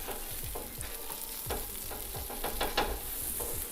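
A beef burger patty smashed onto a hot griddle, a close continuous sizzle broken by repeated scraping spatula strokes in a quick uneven rhythm, with no talking.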